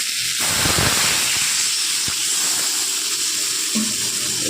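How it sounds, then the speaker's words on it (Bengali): Water is poured into a pan of vegetables sautéed in oil, kohlrabi, potato and beans, setting off a loud hissing sizzle that steams steadily, with a brief splash at the start. "এবার দিয়ে দেবো পরিমাণ মতো জল।"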